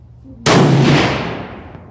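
A single loud, close rifle shot cracks out at an elk hunt in Montana, chambered in 7mm Remington Magnum or 6.5 Creedmoor, its boom rolling away over a long decaying echo; a voice murmurs faintly beforehand.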